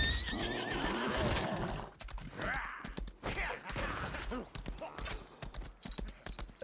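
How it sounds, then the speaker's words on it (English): A horse in the video game Lost Ark neighs and whinnies at the start, then hooves clip-clop in an uneven rhythm as it is ridden, close and clear, with soft game sounds underneath. "Let's get on our horse and have a look."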